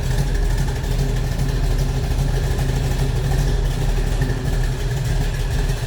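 A 1970 Dodge Challenger R/T with its 440 V8 idling, a loud, deep, lumpy rumble that holds steady throughout at close range, with no talking over it.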